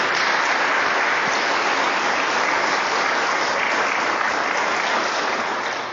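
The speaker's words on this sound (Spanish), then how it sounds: "Den un fuerte aplauso al Señor." A church congregation bursts into loud, sustained applause that fills the room evenly and stays strong for the full span, fading only slightly at the end, with no voices rising above the clapping.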